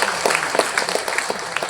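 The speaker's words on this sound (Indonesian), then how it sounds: "Tepuk tangan untuk teman-teman yang hadir." Audience applause at a biodiversity business event opened by an environment minister at Mid Plaza, Jakarta: a steady, dense wash of clapping from a crowd, sustained and fairly loud throughout with no talk over it.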